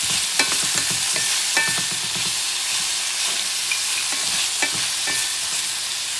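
Bison meat and habanero peppers sauté loudly in hot oil with a dense, continuous sizzle, scattered with clinks and scrapes as the pan is stirred.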